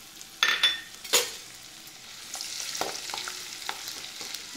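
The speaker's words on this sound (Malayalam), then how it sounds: "ഇത് കിസ്മിസ് ബലൂണ് പോലെ വീർത്ത് വരണം" Raisins dropped into hot oil alongside cashews in a home kitchen, giving a soft steady frying sizzle with a few sharp clinks of a stirring utensil early on, close and moderately quiet, with no talking.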